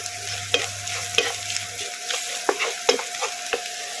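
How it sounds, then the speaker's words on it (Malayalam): Chopped purple yam tumbles into hot coconut oil with crushed chilli, meat masala and turmeric, setting off a steady close sizzle broken by a few sharp stirring scrapes and clicks. "കാച്ചിൽ അരിഞ്ഞത് ഞാനിടുവാണേ."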